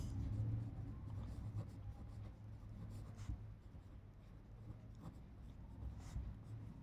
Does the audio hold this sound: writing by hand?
yes